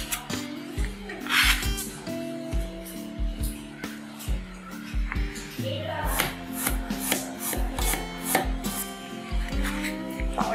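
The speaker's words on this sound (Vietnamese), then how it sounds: "mình xắt lát mỏng mỏng ra một nửa ha, còn một nửa thì mình sẽ bầm nhuyễn với một nửa tỏi nữa" A knife chops and minces shallots and garlic on a cutting board for steamed fish in soybean sauce, a steady run of close, sharp rhythmic taps with brief pauses between bursts.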